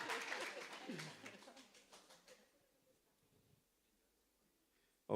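A church congregation claps briefly in a loud burst that fades away within a couple of seconds, leaving near silence before a sudden sharp sound at the very end.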